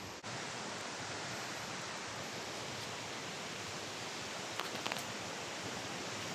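Isarog Falls in Camarines Sur pours with a steady, dense hiss of falling water, a constant broadband roar close by with a few faint scrapes near the end.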